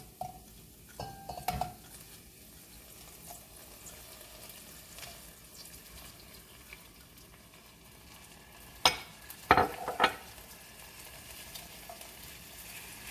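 Seafood sautés in a pan, a low continuous sizzle broken by spoon scrapes and clinks of utensil against the pan, louder in a short burst near the end.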